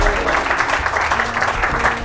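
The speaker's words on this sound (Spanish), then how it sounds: "Más fuerte el aplauso para Sergio" Studio audience clapping for a magician's card trick on a 2015 TV show, a dense, steady wash of applause running throughout with no voices on top.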